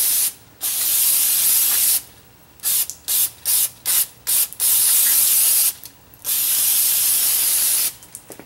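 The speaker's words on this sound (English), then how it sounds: "I'm going to spray this down once more." An aerosol cleaner can hisses loudly up close in bursts on the front brake parts of a Ford Fusion: a few long sprays broken by a quick run of short spurts.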